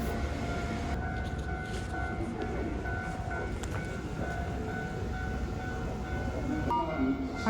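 A train runs along the line in Japan, heard from on board as a steady, fairly quiet rumble and rolling hum with faint tonal whines, continuous for several seconds with no speech.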